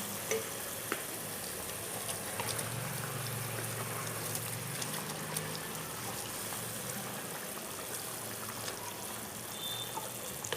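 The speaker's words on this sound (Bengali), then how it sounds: "গ্রেভিটা আমার ফুটে এসেছে" Vetki fish malaikari gravy simmering in a pan, a steady soft bubbling and gentle sizzle running throughout at low, even volume with no talk.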